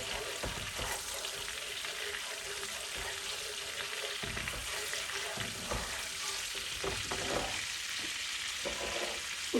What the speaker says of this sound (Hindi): उसमें हम ऐड करेंगे छोटी इलायची ग्रीन, और इसको थोड़ा सा हम बस भूनेंगे।